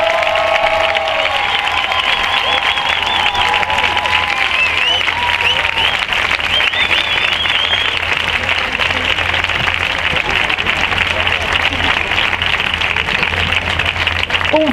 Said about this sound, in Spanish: otro fortísimo aplauso para la Coral Juvenil de La